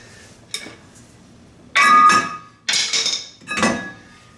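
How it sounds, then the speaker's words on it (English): A brake disc comes off a Jeep Dana 30 front axle hub: a faint tap, then three loud, close metallic bangs and scraping clanks in quick succession. "once you get your brake off, you can take your disc off"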